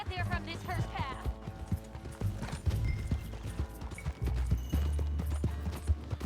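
Rhythmic clip-clop of horse hooves while riding in Red Dead Redemption 2, steady and close beneath ongoing talk and game music.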